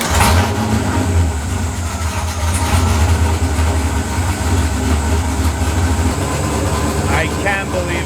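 A GM-powered drift car engine starts and settles into a loud, steady idle, a continuous low rumble close by with a faint voice briefly near the end.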